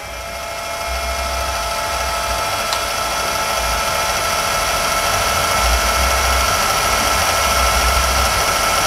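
A Tekiro CDID2071 20V cordless impact driver runs at its lowest speed setting, a steady close motor whir with a low rhythmic pulsing that starts about a second in and holds without talk.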